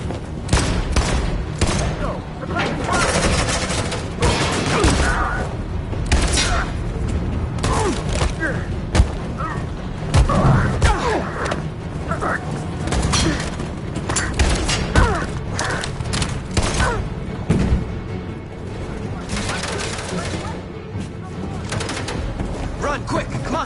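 Gunfire in the video game Detroit, a dense battle mix of bursts and booms running continuously under frequent shouted dialogue and game music.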